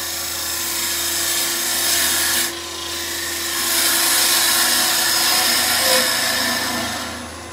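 A bowl gouge cuts wood spinning on a lathe in a continuous close hiss and scrape over the steady hum of the machine, swelling and easing as the cut changes.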